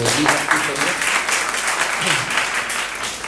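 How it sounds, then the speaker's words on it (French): A church congregation breaks into warm, continuous applause during a Sunday service, the clapping loud and close with a voice speaking over it. "On peut les applaudir"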